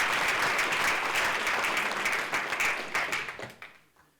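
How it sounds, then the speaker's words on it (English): Conference audience at Meet Magento UK 2024 breaks into a big round of applause, a full dense clatter of many hands that holds steady, then thins into scattered claps and fades out. "Please, a big round of applause to Shaun."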